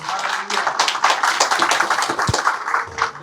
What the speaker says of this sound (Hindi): मैं चाहूंगा एक बार प्रभु यीशु मसीह के लिए जोर से ताली बजाएं।